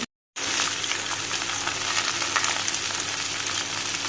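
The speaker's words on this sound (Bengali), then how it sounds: "এবার ভালো করে এটাকে ভাজবো।" Mixed vegetables fry in a pan for a vegetarian Bengali dish with chana dal bori; after a brief silent instant, a loud, steady sizzle and crackle runs unbroken to the end.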